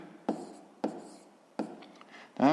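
Numbers being written down by hand during a sixth-grade math exercise: a few short scratchy pen or chalk strokes at an uneven pace, close and fairly quiet.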